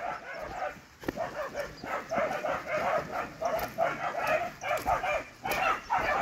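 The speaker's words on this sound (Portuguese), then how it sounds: "Tem os cachorros latindo embaixo," Several dogs bark repeatedly from a short distance below a riverside fishing camp, a steady run of yips and barks across the whole stretch, with a faint voice now and then.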